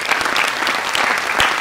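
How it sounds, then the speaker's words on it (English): An audience applauds their teachers at a Teacher's Day gathering, a dense, steady patter of many hands clapping at once, fairly close and continuing without a break. "Let us all clap for our teachers"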